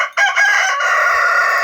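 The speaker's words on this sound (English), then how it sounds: "we've decided that we're going to try using our calm and magnificently vocal black rooster, Quill" A calm black rooster on a homestead crows loudly and close by, one long sustained call that rises after a brief stutter at the start and holds steady to the end.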